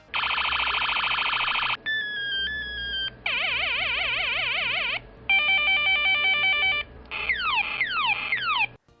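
Electronic keychain toy button effects used in a Portuguese dub of the tokusatsu series Goggle V: a run of synthetic beeps, warbling siren-like tones and rising sweeps, each pattern lasting a second or two, loud and clear with no talk.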